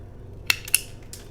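Two sharp snips cutting an acrylic nail tip for polygel nails, close and clear, followed by a fainter third click in an otherwise quiet setting.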